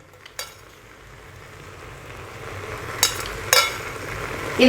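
Rice for North Karnataka biranji being turned with masala powder in a hot pan: a steady close sizzle broken by a few sharp metal spatula scrapes, with no talking.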